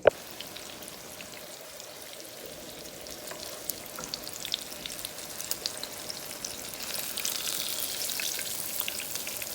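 Eggplant slices frying crispy in a pan, a steady crackling sizzle like light rain that grows a little busier over time, with scattered sharp spits and pops and no voices.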